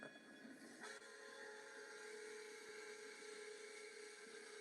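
A played train sound effect: a continuous steady rumble with a sustained horn-like whistle tone running throughout, moderately loud and unbroken, with no voices.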